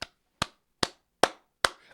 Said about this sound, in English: A round of applause, my friend. A round of applause.